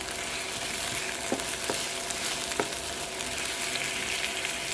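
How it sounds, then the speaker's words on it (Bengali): Onion and garlic fry in hot oil with a steady, dense sizzle that keeps going, broken by a few faint clicks from stirring near the end. "আমার পেঁয়াজ আর রসুন বাগার দেনের লাই দিয়ে দিলাম"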